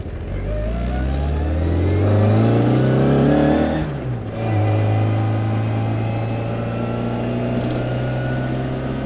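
A 1968 Austin Mini Cooper cafe racer drives with its engine loud and close, revving up through the gears, easing off briefly, then holding a steady droning pull with no talking.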